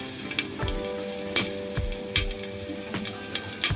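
Whole spices such as cinnamon and cardamom sizzle in hot oil in a pressure cooker, a steady close frying crackle with a few louder pops and stirring knocks, no voices.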